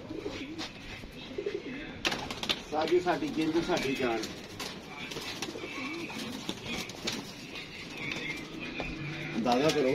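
Pigeons coo in soft, repeated rolling calls close by, with occasional wing flutters, under ongoing conversation among several people.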